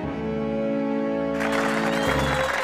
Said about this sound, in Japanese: エリのパフォーマンスが良かったと思う人は拍手をお願いします。